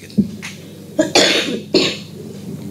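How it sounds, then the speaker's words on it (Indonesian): A person coughs several times in quick bursts, close to the microphone, with short pauses between the rough, throaty hacks. "Sorry, aku batuk."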